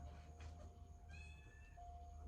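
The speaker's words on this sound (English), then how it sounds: "You might hear my cat outside." A pet cat meowing outside, faint and distant, a couple of short cries against a quiet indoor background with a steady electrical hum.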